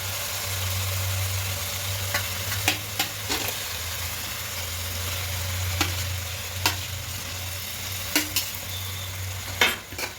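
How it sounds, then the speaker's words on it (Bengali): Fried potatoes being stirred into a spice masala in a pan, a steady low sizzle under a hum, with a spoon scraping and knocking the pan several times at an uneven pace, close and alone. "আর একটু আলুগুলো দিয়ে মশলাটা কষিয়ে নেব"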